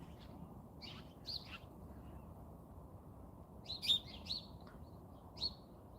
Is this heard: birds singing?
yes